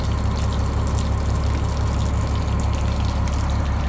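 Water flows steadily in a continuous rushing wash with a low mechanical hum underneath, with no pauses or voices.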